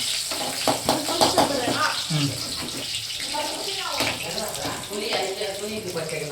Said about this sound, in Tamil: அடுத்தது வந்து கொத்தமல்லி கழுவி எடுத்துக்கலாம்